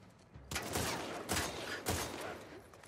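Gunfire in The Last of Us Part II, three sharp, fairly loud shots spaced roughly a second apart, each with a short noisy decay, over a quiet game background.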